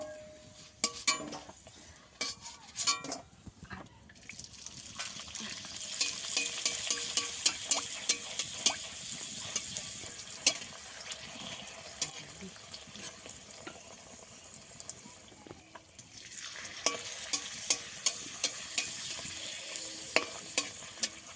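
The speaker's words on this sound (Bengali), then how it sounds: "এবার ভালো করে একটু লাল লাল করে ভেজে নেব।" Fuchka (panipuri) shells deep-fry in hot oil, giving a continuous sizzling hiss with intermittent stirring and scraping sounds, fairly quiet and without speech.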